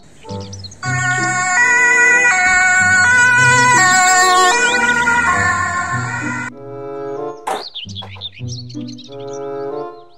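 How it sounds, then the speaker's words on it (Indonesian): A toy ambulance plays an electronic siren melody of stepped, chirpy tones for several seconds, followed by a short burst of toy sound effects. "Mobil ambulans."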